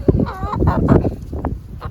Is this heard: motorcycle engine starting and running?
no